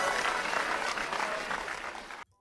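A virtual crowd in Wii Sports golf cheers and applauds a good shot, a thick burst of clapping and cheering that holds steady and then cuts off abruptly.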